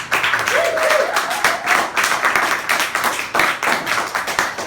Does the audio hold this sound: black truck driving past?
no